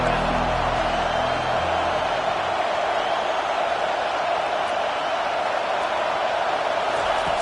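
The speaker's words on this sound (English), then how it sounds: "Decibels rising as the crowd gets behind this defense on 3rd down" A stadium crowd at a college football game roars steadily for the defense on third down, a dense sustained swell of cheering with commentary voices over it.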